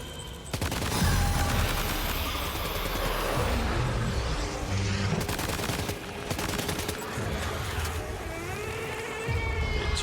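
Grenade blasts and rapid gunfire from Death Stranding 2 fill a dense, loud stretch of combat noise, with bursts of shots and booming explosions running almost without pause.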